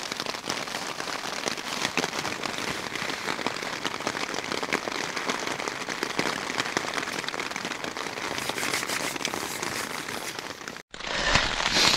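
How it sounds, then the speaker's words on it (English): Heavy rain pours steadily and densely over a winter camp in deep snow, a constant loud hiss of drops with crackly surface patter that continues without pause until a brief dropout near the end. "since it's really raining crazily"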